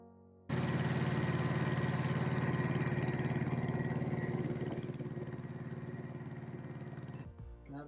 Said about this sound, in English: that means inevitably some mowing.